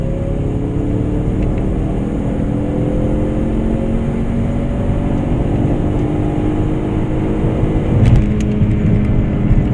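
Ford Mustang EcoBoost with a downpipe and revised tune cruising in third gear at about 25 mph, a steady loud engine drone with harmonic tones that climb slightly before a brief swell near the end.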